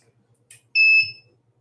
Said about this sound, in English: The alarm will beep once briefly.